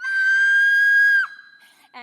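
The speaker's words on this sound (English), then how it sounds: "If you say vampire, I'll scream." A woman on stage in a high school musical theatre production lets out one long, piercing, sustained high scream that breaks off abruptly, followed by quiet stage noise and a brief voice.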